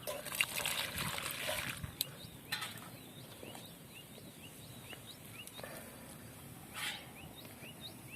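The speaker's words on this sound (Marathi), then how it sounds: "आता त्यामध्ये पाणी टाकून त्याची पेस्ट तयार करायची आहे" Water added to a ground spice mixture to make a paste for chicken curry with chickpeas, giving light trickling and sloshing with faint clinks, quiet and close, alongside some background chirps.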